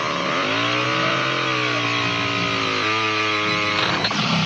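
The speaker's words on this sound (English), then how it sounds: "chainsaw! It's stalled." A chainsaw from Friday the 13th Part II, sputtering and stalling as it is wielded in a fight: a loud, steady rough engine drone with shifting pitch that dips and falters near the end, no voices.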